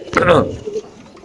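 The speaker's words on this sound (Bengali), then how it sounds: "এখানে আছে এক জোড়া দুই জোড়া তিন চার জোড়া কবুতর" Racer pigeons give a single brief, throaty coo up close, fading quickly into quiet, with a voice in the background.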